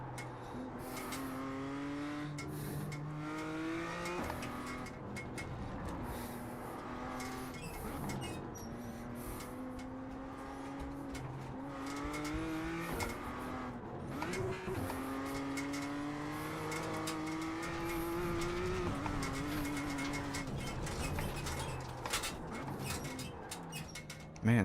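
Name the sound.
Formula 4 race car engine at Laguna Seca, racing video game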